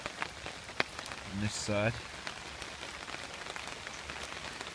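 Rain patters steadily on a camping shelter at a wild hammock camp, a soft continuous hiss with scattered drops, while a voice speaks briefly.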